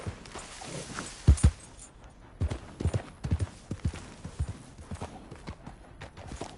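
Horse hooves clip-clop at a steady walking pace in the Red Dead Redemption 2 video game, close and fairly loud, with no voices over them.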